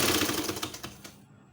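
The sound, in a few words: sewing machine stitching elastic onto a diaper cover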